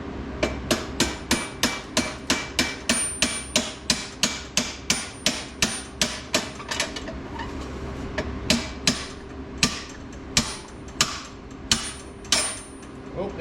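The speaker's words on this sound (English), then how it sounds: "Just gonna use this old screwdriver to kind of punch that out." A hammer strikes an old screwdriver used as a punch to drive a part out of a custom fabricated swingarm for a Honda TRX450R ATV. About thirty sharp metallic blows fall in a steady rhythm, spacing out slightly toward the end.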